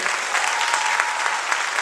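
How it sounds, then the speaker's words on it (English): Audience applause for Leyte Dance Theater at a live show, a thick, even roar of many clapping hands filling the hall, loud and sustained with no voices over it. "How about another round of applause for Leyte Dance Theater?"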